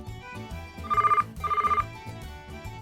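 A telephone rings indoors in two short trilling bursts with a brief pause between them, set against quiet background sound.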